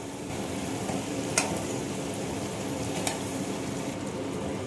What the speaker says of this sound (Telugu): టమాటా ఉడుతుందండి